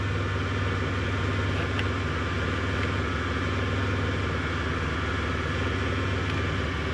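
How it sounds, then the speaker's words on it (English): A 2008 Dodge Grand Caravan with a loud exhaust idles in a steady, unbroken low drone heard from close by throughout, with no talking. "The exhaust is so loud I can't hear."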